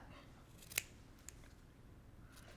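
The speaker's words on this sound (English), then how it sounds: "You just have to have really sharp scissors and don't go through your stitches" Sharp scissors trimming cross stitch fabric make one crisp close snip, then a fainter second cut a moment later, over a quiet background.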